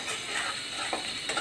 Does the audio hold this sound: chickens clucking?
no